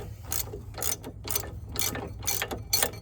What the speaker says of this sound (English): just setting up here with the ratchet